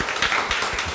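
A congregation applauds during a Korean church service, a dense wash of many hands clapping together for about a second, loud and close with no voices over it.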